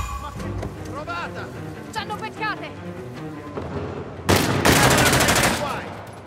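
Gunfire in the video game Uncharted: The Lost Legacy, a loud burst of rapid shots erupting near the end after a stretch of quieter game sounds, with someone talking over the action.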